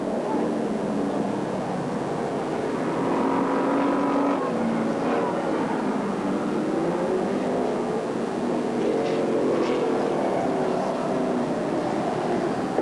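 Race cars lapping Alexandra Speedway during a 1985 100-lap race make a continuous, steady engine drone with a wavering pitch that never drops out, heard at a distance.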